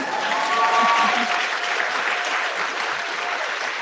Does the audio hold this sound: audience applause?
yes